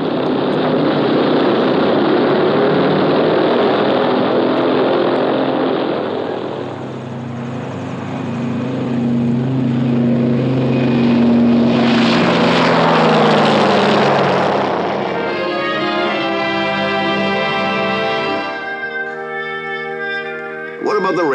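A propeller plane drones loudly overhead, its engine rising and sweeping past, steady and near, with a faint voice toward the end.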